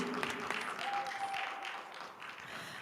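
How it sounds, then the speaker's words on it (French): A church audience applauds at a marriage retreat, steady soft clapping that stays faint and even throughout, with a brief tone in the background. "Là, tu applaudis le Père Léandre, tu n'applaudis pas Dieu."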